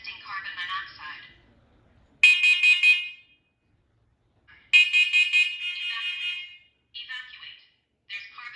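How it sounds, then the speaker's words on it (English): A carbon monoxide alarm under test sounds in loud, shrill beeping bursts separated by short gaps, alternating with a synthetic voice making announcements. "Testing carbon monoxide."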